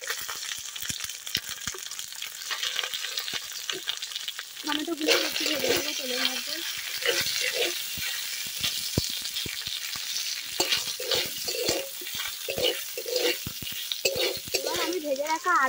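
Ginger paste, chopped tomato and green chilies sizzle steadily in a pan during village-style cooking, with bursts of sputtering frying and occasional stirring and clinking close by throughout.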